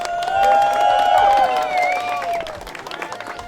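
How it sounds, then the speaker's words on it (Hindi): An audience at a Hindi quiz show applauds a contestant, a few seconds of clapping and crowd noise mixed with a prominent musical tone and a voice over it. "और जोरदार इनके लिए तालियां।"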